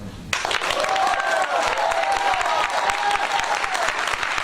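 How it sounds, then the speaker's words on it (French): A crowd at an Ignite talk breaks into loud, sustained applause after a brief quiet start, a dense continuous clatter of many hands clapping at once. "On l'applaudit bien fort, s'il vous plaît."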